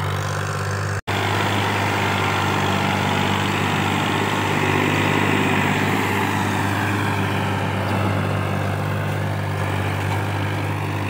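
Fiat 480 tractor engine running at full throttle, a loud, steady low rumble with a constant drone that holds close and unbroken apart from one sharp click near the start.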